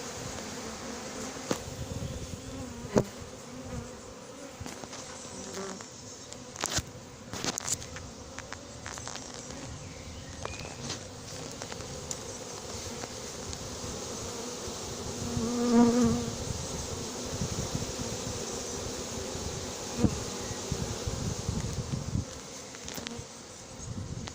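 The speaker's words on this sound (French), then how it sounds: "Un dernier paquet d'abeilles." Steady, dense buzzing of a honeybee swarm being hived, droning continuously, with occasional louder passes close by and faint rustling.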